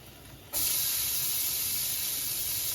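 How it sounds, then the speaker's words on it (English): Onions hitting a hot pan for a creamy sun-dried tomato chicken pasta, a sudden loud hiss that starts after a short quiet moment and then holds as a steady, close sauté sizzle. "we're gonna saute these for probably about 3 or 4 minutes so they start becoming translucent"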